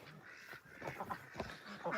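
Ducks on a homestead being herded in at bedtime give a run of nasal quacks, several short calls clustered near the end over faint background noise.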